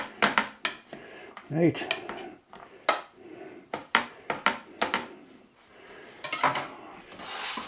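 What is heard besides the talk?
crushing garlic cloves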